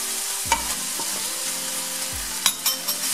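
Tempeh and onions caramelising with a spoonful of sugar are stirred in a hot pan. A steady sizzle runs throughout, with several close spatula scrapes and clacks, the loudest ones near the end.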